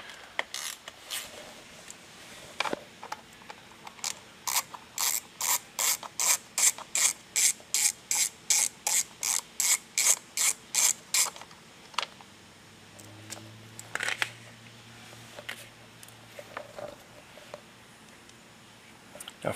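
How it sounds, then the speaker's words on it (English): Ratchet with an Allen bit backing bolts out of a front panel on a Honda NC700X motorcycle, a steady run of evenly spaced loud clicks up close, then scattered handling knocks and a faint hum. "there's two Allen wrenches, one on each side. We're going to start by taking those off and just remove this front piece here."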